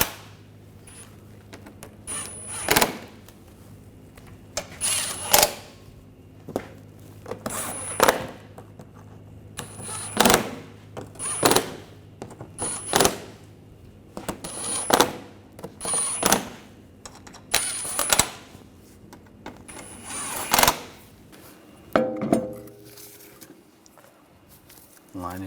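Bolts being tightened on the front bumper cover of a 2009-2013 BMW 328i, a series of sharp metallic clicks and clanks in irregular bursts, close and moderately loud, over a quiet background.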